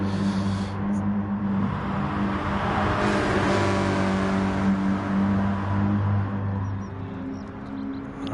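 In GT Sport's VW Cup, a race car engine drones with a steady tonal whine that swells as another car passes near, then eases back to a constant hum.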